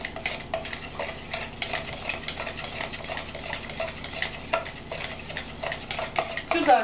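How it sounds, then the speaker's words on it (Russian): A spoon scrapes and clinks steadily against a bowl while salt is stirred into room-temperature water for puff pastry dough, a continuous close rhythmic stirring with no talk. "И смешиваем, пока соль растворится в воде полностью."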